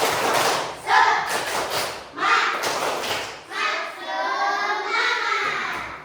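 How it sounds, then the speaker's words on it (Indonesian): Children in a classroom perform a rhythmic spirit clap, with bursts of clapping and thumping in patterned groups separated by short pauses, mixed with chanting voices. "Tepuk semangat"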